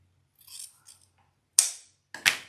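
Scissors snip through the tail of a ribbon on a patriotic decorated tree: soft ribbon rustling, then two sharp, crisp cuts about half a second apart, close and alone.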